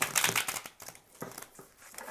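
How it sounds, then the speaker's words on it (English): Papery riffling bursts of cards being shuffled, two quick flurries close by with a brief pause between them. "I divide them in half and then I shuffle them"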